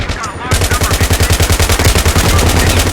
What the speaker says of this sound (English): all explosions do have a pressure wave that moves through the environment in a very realistic way